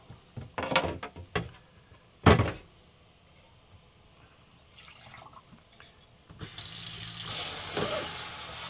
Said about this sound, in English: we need to rinse this cup out.